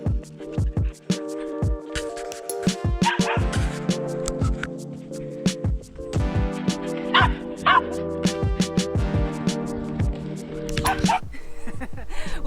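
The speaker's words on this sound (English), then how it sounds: "he just barks and barks and barks and then gets a frisbee and runs off with it" Dog barking repeatedly during an outdoor frisbee game, a run of short, sharp yips and barks in quick bursts, fairly close, with some whimpering mixed in and no pauses longer than a moment.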